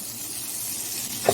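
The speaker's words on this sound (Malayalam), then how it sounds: "വേപ്പില ചേർക്കാം." Curry leaves with turmeric and asafoetida sizzling in hot oil for aval mixture, a steady close hiss and crackle with a brief louder pop near the end.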